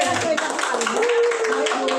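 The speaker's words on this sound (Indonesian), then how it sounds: "tepuk tangan sekali lagi Bapak Ibu kepada kepala sekolah inspiratif kita" Audience applause for an inspiring school principal at a school gathering: dense, continuous clapping from a crowd filling the whole moment, with voices audible underneath the steady patter.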